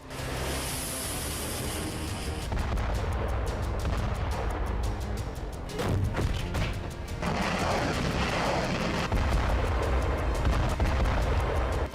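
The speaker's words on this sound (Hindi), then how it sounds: "कभी हवा से तो कभी आर्टिलरी से होता रहा प्रहार।" Russian artillery firing during the war in Ukraine, heavy booms and rumbling blasts that recur over a dense, loud background of battlefield noise.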